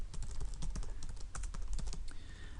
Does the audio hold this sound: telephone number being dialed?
no